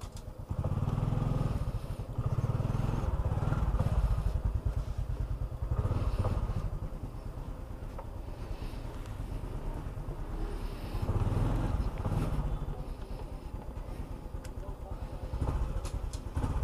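A motorcycle engine runs steadily at close range, its low rumble swelling and easing in a few surges, with some clatter and a voice talking now and then over it.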